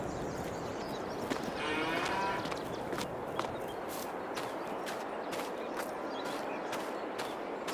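Cattle moo repeatedly in Farming Simulator 22 on a Missouri farm with 180 beef cattle and 72 dairy cows, the calls steady and mid-distance over a constant barnyard bed, with scattered faint clicks and footsteps.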